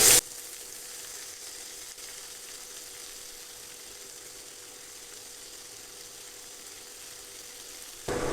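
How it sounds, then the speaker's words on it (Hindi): Ginger paste frying in a pan with turmeric while cooking chana dal: a steady, soft sizzle that runs evenly and fairly quietly, with brief louder bursts right at the start and end. "अब डालेंगे 1 टेबलस्पून अदरक का पेस्ट। थोड़ा सा फ्राई कर लेंगे।"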